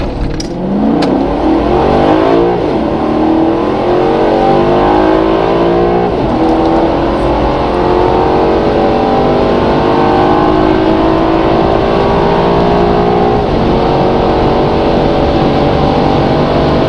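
A 2009 Maserati Quattroporte GTS engine revs up hard through several rising gear pulls, loud and close, with each shift dropping the pitch before it climbs again.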